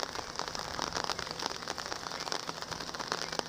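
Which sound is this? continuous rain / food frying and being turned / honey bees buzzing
continuous rain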